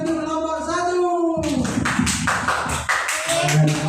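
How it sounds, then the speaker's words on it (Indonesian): Classroom students clap their hands together in a quick, dense burst of claps starting partway through, close and loud, with talk over and around it. "Tepuk tangan dulu kelompok satu."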